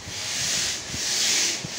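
Wood scrapes steadily across a floor surface being prepared for old-style waxing, a close, hissy rubbing with a few soft strokes and no speech.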